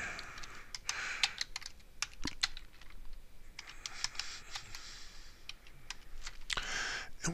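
Typing on a computer keyboard while setting up a new dashboard menu: irregular bursts of quick, light key clicks with short pauses between runs, close and moderately quiet, with no talking.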